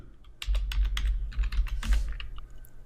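Fingers type quickly on a computer keyboard, close and clear, with a steady run of clicking keystrokes and no talking.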